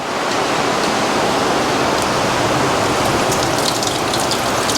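Heavy tropical rain pours steadily over a flooding road in the Philippines, a loud unbroken wash of broadband noise with no voices over it.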